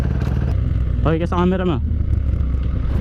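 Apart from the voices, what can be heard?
KTM Duke 390 motorcycle riding with passenger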